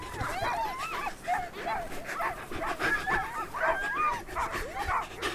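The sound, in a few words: Greenland sled dogs whimpering and yipping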